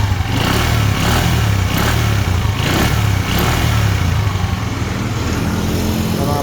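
A 2014 Kawasaki Curve motorcycle engine idles close by and revs up in steady, loud waves for several seconds, with no voices over it.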